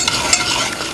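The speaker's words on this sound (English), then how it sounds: "I'm going to whisk my butter and my sugar and my heavy whipping cream all together until this is all melted" Whisk stirring butter, sugar and heavy cream together in a pot as the mixture melts, a steady close scraping and swishing with a faint sizzle, no talk.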